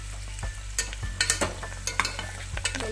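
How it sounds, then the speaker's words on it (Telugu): Fenugreek leaves fry in a pan for an egg curry, giving a close, steady sizzle broken by several quick spatula scrapes and stirs, with no one talking. "మెంతికూరని బాగా ఫ్రై అవ్వాలి."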